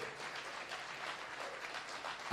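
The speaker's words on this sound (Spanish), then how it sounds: "Si le va a aplaudir a Cristo, vamos a aplaudirle con ganas." Church congregation applauding, a soft, fairly distant wash of clapping that holds steady and then swells right at the end.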